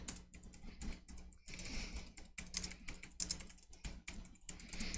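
Fingers type rapidly on a computer keyboard in continuous bursts of close, crisp key clicks with short pauses between words.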